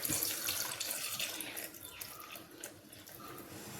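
Milk pours steadily into a container for a few seconds, a soft splashing stream that gradually quiets.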